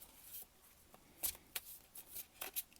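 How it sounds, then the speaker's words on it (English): A deck of tarot cards is shuffled close by in quiet, uneven bursts of papery riffling and soft flicks, with short pauses between and no talking. "These will not shuffle properly."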